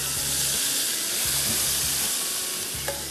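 A steady, close sizzle of hot oil tempering poured over cooked lentils, with a constant hissy crackle and a low hum underneath, no voices.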